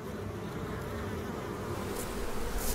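Honeybees from a backyard hive in a garden, a dense steady buzzing swarm that fills the air continuously, close and fairly loud, with no talking.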